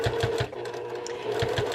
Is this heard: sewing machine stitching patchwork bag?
yes